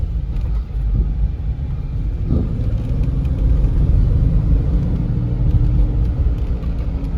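Cabin of a worn 2003 Ford Explorer XLT driving over road bumps: a steady, loud low rumble of engine and tires, with a couple of dull thumps as the wheels hit the bumps.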